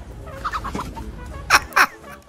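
A chicken clucks and calls in a short run of notes, ending with two louder, sharper squawks close by; no one speaks.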